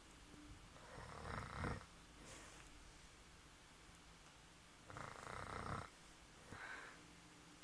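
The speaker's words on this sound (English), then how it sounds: "This is proof that my mother snores," A woman snores while asleep, two long rasping breaths spaced a few seconds apart with softer exhales between, close but quiet.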